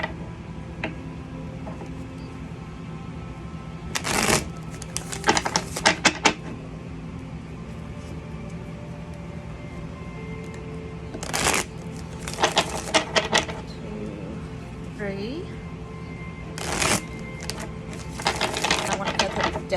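Playing cards are riffle-shuffled close by in three quick fluttering bursts spaced apart, over a low steady background hum.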